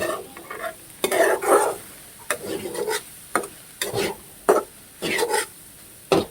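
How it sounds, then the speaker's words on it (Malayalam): Food frying in sunflower oil in a home kitchen, stirred in repeated bursts of scraping and sizzling with short pauses between, close and fairly loud with no talk. "നല്ലൊരു ഫ്രൈ ആകട്ടെ ഇത്"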